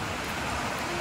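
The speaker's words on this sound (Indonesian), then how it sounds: "Karena hujan" Steady rain falling, a dense even hiss with no breaks and no voices.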